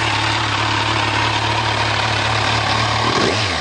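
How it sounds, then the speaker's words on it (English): A 2014 Kawasaki Z1000 ABS motorcycle idles through its exhaust, a loud, steady, close rumble that holds even and dips briefly near the end, with no talking. "See if we can get a little sound of that exhaust."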